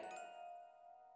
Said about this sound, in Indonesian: Suara bel gerbang yang terdengar berbunyi karena ditekan oleh seseorang dari luar.